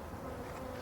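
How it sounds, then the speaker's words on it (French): Honeybees at an opened wooden hive in a forest setting, a steady, close, droning buzz of many insects with no voices. "Donc là je vois des abeilles, hein, partout."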